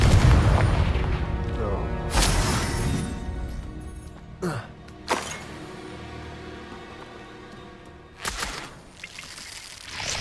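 Confringo fire spell blasts in the Hogwarts Legacy game, with several loud booming explosions over a busy game soundscape and background music, the strongest hits near the start and a few later sharp bursts.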